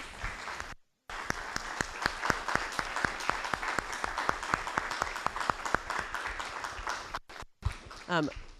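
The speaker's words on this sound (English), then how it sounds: "Please join me in giving a round of applause to our panelists" Audience applause for a panel discussion, a dense run of clapping filling most of the stretch after a brief gap, fading near the end as a voice starts.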